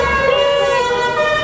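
A lorry drones loudly close by, a steady engine hum with a whining tone that holds throughout.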